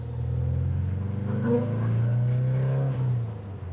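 A Porsche 914 pulls forward from a slow roll in second gear, a close, low engine rumble rising steadily as it accelerates, then easing off near the end.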